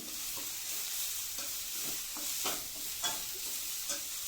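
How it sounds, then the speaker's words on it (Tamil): Grated cabbage frying with onion in a pan for vegetable cutlets gives a quiet, even sizzle with occasional spoon stirs and light clinks, heard close with no talking. "இப்போ வந்து துருவி வச்சுருக்கிற முட்டைகோஸ் ஆட் பண்ணிக்கலாம்."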